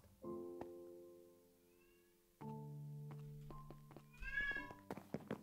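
A cat meows repeatedly at close range in a quiet room, giving several drawn-out, harmonic cries with brief pauses and a soft thump in between.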